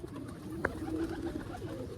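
A pigeon gives a soft, low coo amid quiet outdoor background noise, with a brief flutter or click near the start.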